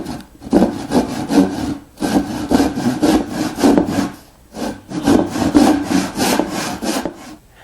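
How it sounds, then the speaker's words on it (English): Hand saw cutting a tenon shoulder in wood held against a saw bench used as a bench hook, steady back-and-forth strokes in three runs with brief pauses, close and loud, no speech. "I can then go ahead and saw this shoulder"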